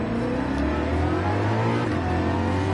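A Ford Mustang's engine accelerating in Gran Turismo 7: a loud, continuous engine drone with pitch slowly rising and shifting harmonics, heard alone without talk.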